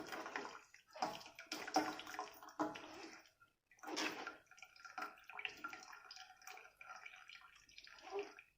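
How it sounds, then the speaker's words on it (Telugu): Water from curdled milk strained off through cloth or a sieve in a home kitchen, sounding as irregular splashing and trickling bursts that stop and start, fairly close and of moderate loudness, with no voices. "మొత్తం వాటర్ అంతా పోయే వరకు ఇలాగా స్టెయిన్ చేసుకోవాలి"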